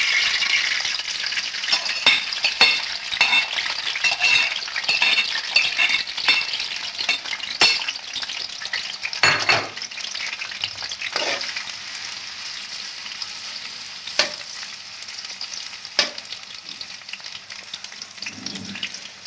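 Onions frying in a pan for bhindi masala, browning over a couple of minutes, give a steady broadband sizzle with occasional clinks and stirring knocks, close and continuous with no talking.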